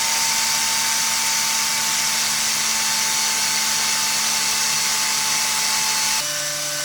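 A Makita LXT cordless power tool runs on a pack turned down to low voltage, giving a steady, loud whirring motor drone with a sustained tone that drops abruptly in pitch near the end.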